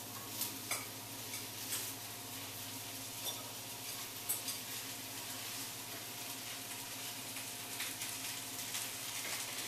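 Potatoes sizzle steadily as they are spread in a layer in a pan of fried onions, a low constant hiss with scattered light clinks and taps of utensils, close but quiet.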